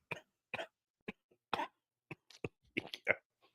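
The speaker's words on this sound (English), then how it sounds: "You ever try to hold back a cough?" A string of about a dozen short, sharp coughs and throat clears comes close to the microphone, irregularly spaced with quiet gaps between them, and some fall into tight clusters.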